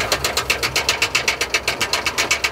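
A badly running old vehicle engine being driven, chugging in a fast, regular stream of rough, knocking pulses at steady loudness, close by, with no talk.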